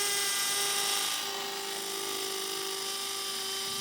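A compact Bosch 18V cordless three-mode drill rated at 65 Nm hammer-drills into concrete at up to 27,000 blows per minute, giving a continuous whining buzz that is loudest for the first second and then holds steady.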